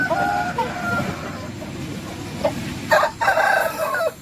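Large-size rooster on a farm crows near the end, after softer clucking and background calls from nearby fowl earlier on.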